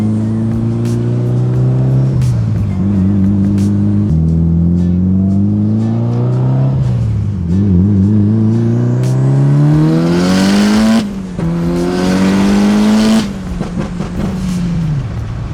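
Turbocharged Mitsubishi Evo 8 accelerating hard, the engine loud and close as revs climb and drop through several gear shifts, with sharp turbo whooshes between shifts and one shift missed.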